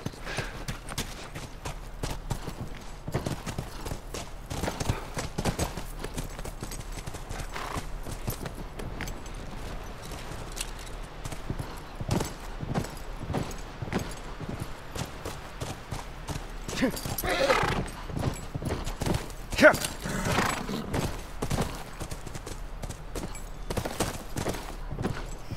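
Horse hooves clip-clopping in the video game The Last of Us, a steady rhythmic trot of soft thuds running throughout, with talk over it.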